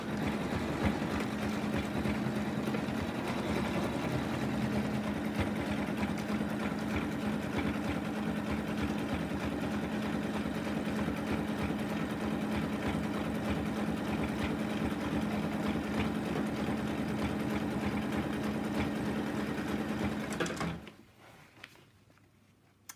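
An embroidery machine stitching out an in-the-hoop lamb design, a steady fast mechanical whirring and needle clatter running continuously before stopping abruptly near the end.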